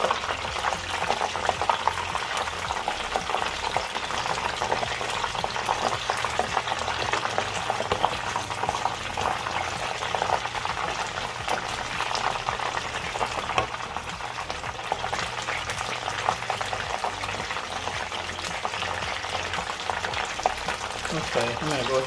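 Beer-battered cod frying in hot oil, with a continuous bubbling sizzle and occasional stirring and scooping noises, under intermittent talk.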